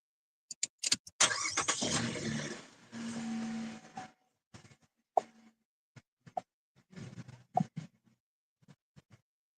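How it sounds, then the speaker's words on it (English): A car engine starts with a churning crank that catches into a brief roar and settles, followed by scattered clicks, clunks and jingling sounds in an otherwise quiet setting. "I'm going to start the car"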